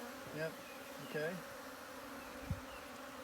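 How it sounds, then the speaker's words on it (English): Honey bees buzz inside a hive box holding a full frame of bees with a queen, a low steady drone with a few louder passes as individual bees fly close. "Now, you notice the behavior of the bees has changed a little bit? They're a little bit noisier."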